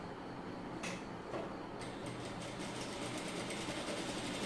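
A sewing machine stitching white cloth, a faint, steady mechanical whir with a low rhythmic churn and a couple of soft clicks near the start.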